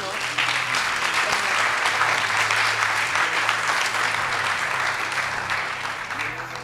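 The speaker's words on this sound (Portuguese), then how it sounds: "bateriam palmas para ele." An audience bursts into sustained, dense applause that holds steady for several seconds before tapering off slightly at the end, with a voice faintly audible underneath.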